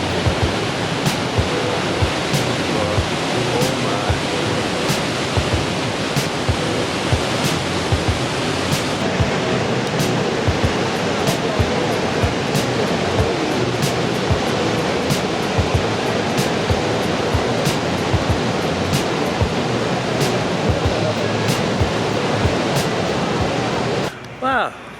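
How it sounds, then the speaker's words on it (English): Niagara Falls roaring up close, a loud, dense and unbroken wash of falling water and spray that continues steadily before cutting off near the end. "Niagara Falls, what an incredible place."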